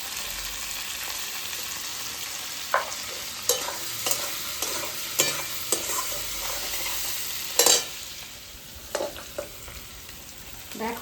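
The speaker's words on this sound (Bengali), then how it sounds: "দেখো আমার পেঁয়াজ আর ক্যাপসিকাম কিন্তু হাফ হাফ ভাজা হয়ে গেছে" Sliced onion and capsicum sizzle in a pan with a steady frying hiss, interrupted by several sharp scraping stirs and utensil knocks at irregular intervals.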